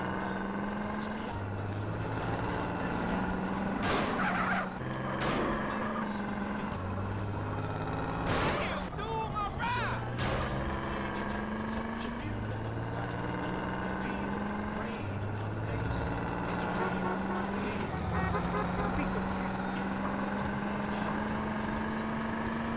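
A car drives in Grand Theft Auto San Andreas, its engine running steadily throughout with game music and in-game voices over it. Occasional sharp bangs and crashes break through the mix.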